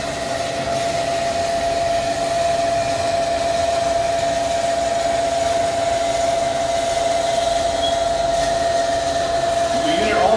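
A Hydmech fully automatic dual post horizontal band saw, heavy duty at 22 by 22 inches, runs through a cut with a loud, steady mechanical whine and hum, and a faint squeal near the end.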